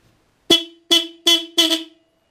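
Four short, loud blasts from a motorcycle horn after adjustment, evenly spaced honks with a bright buzzy tone, heard alone and close.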